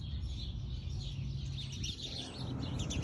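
Birds chirp and tweet from beyond a garden fence, with repeated bright calls layered over a low background rumble, fairly distant and with no voices.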